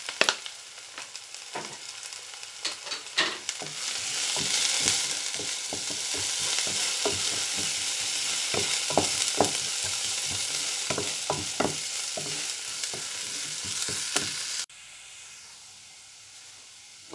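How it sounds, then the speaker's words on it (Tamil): Onions with a little turmeric sizzle steadily in a pan, with frequent stirring scrapes over a constant bright hiss that cuts off sharply near the end, leaving quiet. "இப்போ வெங்காயம் கொஞ்சம் வதங்கிடுச்சு"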